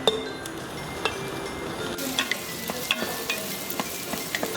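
Pork sizzles in a pan with garlic, onions and tomatoes, a steady frying hiss broken by the clinks and scrapes of stirring, close and without talk.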